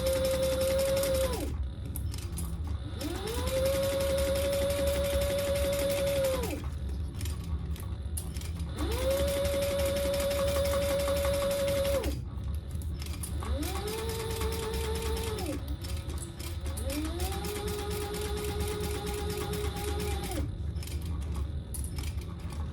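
Sewing machine stitching a bag, running in several bursts of a few seconds each with a steady whirring motor tone and pauses between seams.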